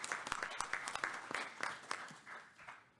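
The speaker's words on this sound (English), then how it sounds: "Let's give her a round of applause to congratulate her" Applause from an audience at a school district board business meeting congratulating a student recognized by the board, scattered claps of a small crowd fairly faint and fading toward the end.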